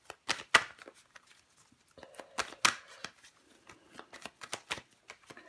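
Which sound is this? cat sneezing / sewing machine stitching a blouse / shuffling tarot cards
shuffling tarot cards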